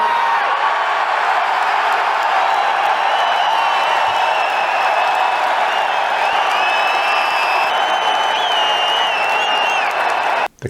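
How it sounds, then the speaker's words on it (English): An arena audience at a Hall of Fame induction ceremony erupts into a sustained standing ovation, loud continuous applause and cheering with scattered whoops that swell and hold without letup. "They spontaneously erupt into an extended standing ovation"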